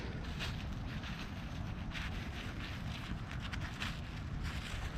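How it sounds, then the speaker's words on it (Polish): Strong wind blowing through a forest, a continuous rushing roar with buffeting gusts that press on the microphone, steady and close with no voices. "Dosyć mocno wieje u mnie dzisiaj."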